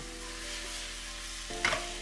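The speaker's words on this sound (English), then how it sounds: "After just 1 minute of cooking it, we're ready to add the mushrooms back and mix them all in." Onion, spinach and mushrooms fry in a pan while being stirred, giving a low steady sizzle with a brief louder scrape of stirring near the end.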